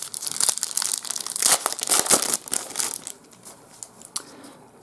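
A Star Trek CCG booster pack wrapper is torn and crinkled open up close, with bright crackling plastic rustles in quick bursts that fade into a few quieter crinkles.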